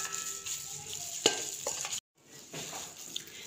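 A spoon scrapes and stirs thick, salted batter for frying chicken legs in a bowl, close up, with soft wet clinks and a brief break midway.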